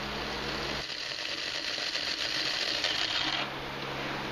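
A grinder runs steadily on smoked chipotle chili peppers, grinding them into powder, with a close, even whirring and rattling buzz that shifts in tone partway through and then settles back.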